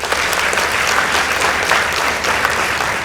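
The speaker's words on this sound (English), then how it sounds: "Give him a round of applause." An audience at a high school debate between Machakos School and Makueni Boys High School applauds steadily and loudly throughout, a dense wash of clapping with no talk.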